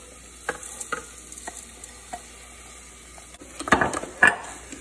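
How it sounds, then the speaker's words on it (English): Rice and vegetables sautéing in a pan while coconut rice is made: a quiet sizzle with scattered spoon scrapes, then louder, busier stirring and clatter toward the end. "And saute for yet another minute."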